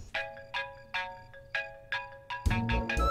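A phone rings for an incoming video call in a Hindi-dubbed movie scene, with bright tonal bursts repeating in a steady rhythm before louder, fuller sound cuts in at the end.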